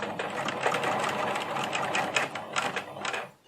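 A sewing machine stitches one side of a fabric key holder in a single loud, close run of rapid, even whirring that lasts about three seconds before slowing to a stop.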